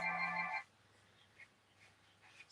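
A mobile phone rings briefly in a room, a loud electronic ringtone burst that stops after half a second, followed by quiet room sounds with faint clicks.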